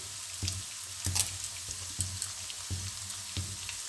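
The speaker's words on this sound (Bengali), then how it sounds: "আর তেজপাতা ফোড়ন দিচ্ছি," Bay leaves tempering in hot oil for a Bengali vegetable curry, a continuous close sizzle broken by repeated stirring or scraping knocks at roughly half-second intervals, with no talking.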